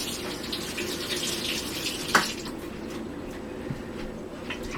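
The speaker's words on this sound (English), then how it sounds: "Let me just wash my hands up." Hands are washed under a running kitchen tap, a steady nearby stream of water with a brief louder splash midway and soft squishing, no talking.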